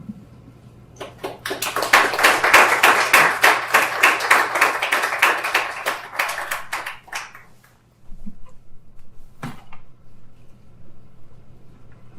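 Audience applause for poet Richard Rose at a WriterHouse reading: a dense burst of clapping swells for about six seconds, fades out, and then a few scattered claps and a sharp tap follow.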